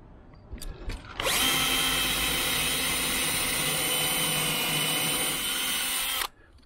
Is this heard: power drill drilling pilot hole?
yes